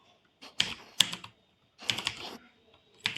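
Keystrokes on a computer keyboard as a command is typed into a Linux terminal, coming in short clustered bursts separated by brief pauses, close and fairly quiet with no talking.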